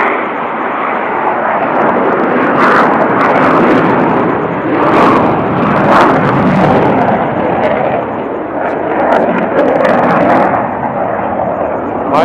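An airplane passing low overhead, a loud broad roaring rumble that holds steady and fills the space, with no talking.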